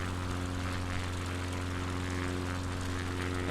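A propeller airplane engine drones steadily from inside the cockpit in Microsoft Flight Simulator, a loud, constant hum with strong low tones and a rough airy wash, unbroken throughout on a Patagonia bush flight.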